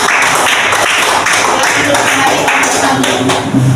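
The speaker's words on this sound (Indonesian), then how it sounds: "beri tepuk tangan untuk kelompok 1" Short burst of classroom clapping for a student group, loud and close, with sharp hand claps and some chatter underneath.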